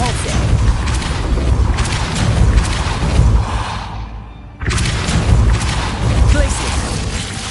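In Hogwarts Legacy, a Depulso force spell lands as a heavy, booming whoosh amid continuous battle noise, cutting off to near silence and then surging back, loud and close.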